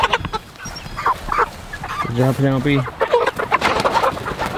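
A flock of about forty ten-week-old Murray's Big Red broiler chickens on a family homestead clucks close by, with one loud drawn-out call standing out midway while a person speaks briefly.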